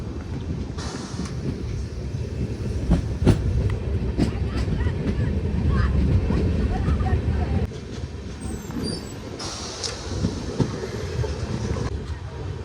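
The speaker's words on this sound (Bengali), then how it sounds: "এই মুহূর্তে আমাদের ট্রেন এসে পৌঁছেছে গাজল স্টেশন" A passenger train, number 13063, rolls into Gajol station in Malda district with a continuous low rumble, wheel clatter and wind buffeting close by, easing slightly toward the end.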